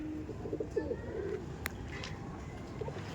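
Andhra pigeons in a loft, a male and a female, give soft, low, repeated coos at a moderate distance over faint background noise.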